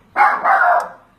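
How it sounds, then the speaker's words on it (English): A pet dog gives a single loud, close bark lasting about a second, heard alone in a quiet indoor room. "sorry about my dog barking."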